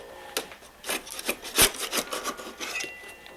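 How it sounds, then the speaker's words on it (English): A hand scraper pries and scrapes a strip of wood veneer off an old clock case, giving a series of sharp, close rasping scrapes and cracks in quick irregular bursts. "we're going to go ahead and take this scraper here and just remove the whole"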